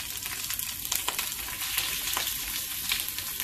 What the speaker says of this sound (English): We're fixing to fry it at like 900 degrees.